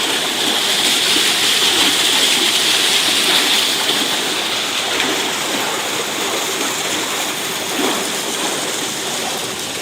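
Water rushes continuously through the locks of the Finow Canal near Berlin, past massive walls. The roar is loud, close and steady, with no voices.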